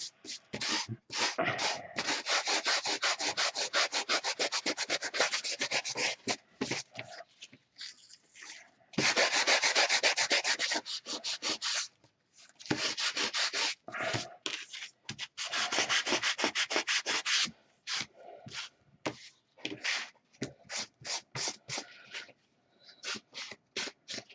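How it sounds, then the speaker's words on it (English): Hand sanding on wood, a steady raspy rubbing in long bursts broken by short pauses and quicker strokes, close and fairly loud. "that's why I'm sanding it down."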